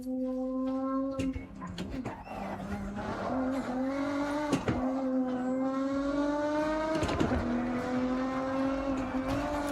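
Cars race and skid in the video game Forza Horizon 6 with no traction control, a steady droning engine tone rising gradually through the gears, punctuated by sharp tire screeches and shift dips.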